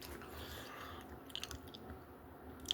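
Crunchy chewing of Cheez-It crackers, steady close mouth crunches and bites running throughout at a quiet level, with a few sharper crunches near the middle and end.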